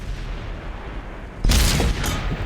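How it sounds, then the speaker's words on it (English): A tank cannon firing in a tank video game: a steady engine rumble, then a sudden heavy boom that rolls on for about a second, followed by a second, softer blast, all without talk. "I shot right into the side of his tank"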